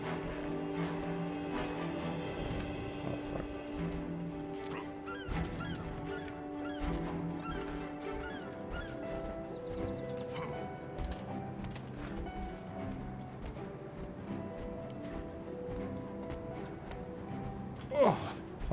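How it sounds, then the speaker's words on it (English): Honking birds in Guild Wars 2 call repeatedly over steady game music and effects, with a louder honk near the end. "Okay, fucking birds again."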